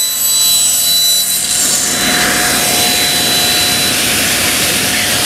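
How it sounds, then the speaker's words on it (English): A panel saw cuts a board freehand to rough length, its blade producing a loud, steady whirring roar with a broadband rasp of wood being sawn throughout, close by and without talk. "I can now cut this off freehand, just cutting a rough length."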